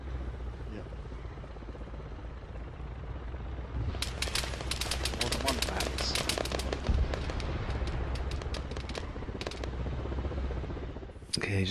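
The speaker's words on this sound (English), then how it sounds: "I've just attracted more gunfire from somewhere else now" Gunfire crackles through the Arma 3 game in dense bursts of rapid shots over a constant engine-like rumble, with a brief spoken comment mixed in.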